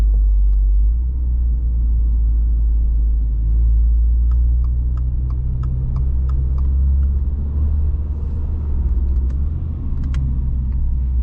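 A 2022 Subaru WRX GT with a CVT performance transmission accelerates through its stepped gears, heard from the cabin as a loud, continuous, deep engine rumble with no talking.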